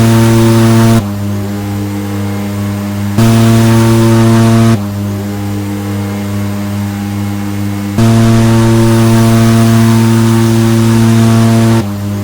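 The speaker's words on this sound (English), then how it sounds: "we'll power off these engines just a bit" Twin turboprop engines of a DHC-6 Twin Otter in Microsoft Flight Simulator 2020 on a Kathmandu to Lukla flight, a loud steady drone with strong harmonics that steps down and back up as power changes.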